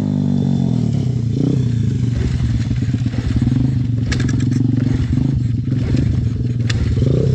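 A pit bike engine screams at full throttle, loud and close, with a strained, rattling buzz and clattering mechanical noise that holds steady the whole way through.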